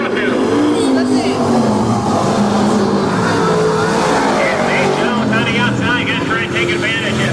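Race cars circle the oval at Crystal Motor Speedway in Michigan during a late-race lap, their engines a steady, loud roar with rising passes. A commentator talks over the noise throughout.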